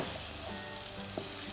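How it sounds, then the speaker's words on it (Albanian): Cherry tomatoes fry in a pot on the stove with a steady, close sizzle and a few faint stirring clicks, and no one speaks. "hedhim dhe domatet"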